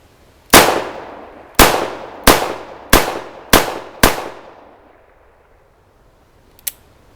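Six loud, sharp reports from a Smith & Wesson Model 64-7 .38 Special revolver fired double action, spaced roughly half a second apart with ringing decay, then a faint click near the end.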